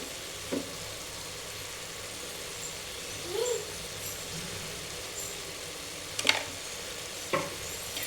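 Vegetables and masala for tomato bath frying in a pan give a soft, steady background sizzle, with a few scattered scrapes and taps from the stirring spoon.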